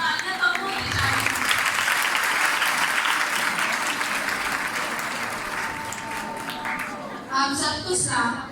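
Sustained applause from a seminar crowd at a parish hall in Samanabad fills most of the stretch, then thins out as a voice begins speaking near the end.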